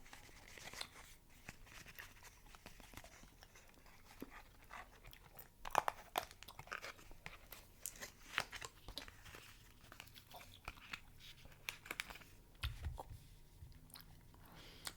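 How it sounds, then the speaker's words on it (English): Bazooka bubble gum being chewed up close in a quiet room: soft, wet crunches and sticky clicks in an irregular rhythm, with small crinkly snaps scattered throughout. "Let me chew another one"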